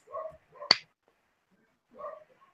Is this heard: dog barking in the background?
yes